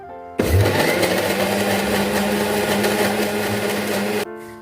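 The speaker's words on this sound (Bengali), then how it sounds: "এবার সামান্য একটু জল দিয়ে এটাকে আবার পেস্ট করে দেবো।" A mixer grinder blends spice paste with a little water for paneer masala, starting abruptly into a loud, steady whirring roar that runs about four seconds before cutting off.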